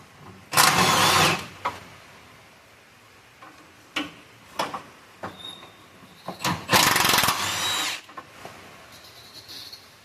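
A power tool, likely an impact driver or drill, whirs in two strong bursts and a few short pulses as the top shock bolts come out of a Jeep Wrangler, up close in a quiet garage.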